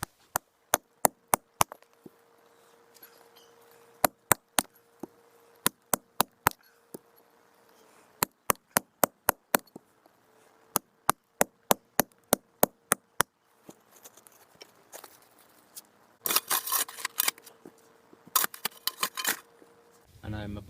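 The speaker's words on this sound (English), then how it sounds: "Go get my cold chisel and lump hammer." A cold chisel struck with a lump hammer chips away at rock, a long run of sharp, loud metallic blows in quick bursts and steady rhythm, close by, with scraping and handling noise near the end.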